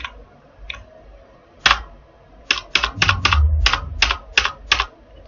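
Typing on a computer keyboard while entering Tally ERP9 balance sheet data: a few scattered clicks, then a quick run of crisp, close key taps with a soft low thump underneath.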